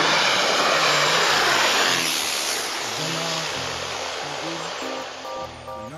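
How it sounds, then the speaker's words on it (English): An airplane passes overhead with a loud, broad engine roar that fills the opening seconds and then slowly fades as it moves away. "you saw how he started his vlog with that airplane flying over his head."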